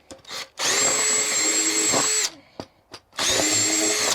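A power drill whirs at full speed in two bursts during mini bike seat work, a long sustained whine followed by a short pause with clicks and then a second run, loud and close.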